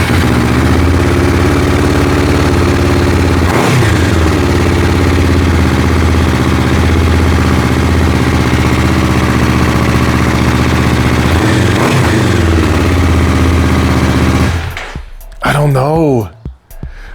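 A motorcycle fitted with a Leo Vince slip-on exhaust and dB killer idles steadily and loudly with a low throbbing note and two short blips, then cuts off near the end as a voice speaks.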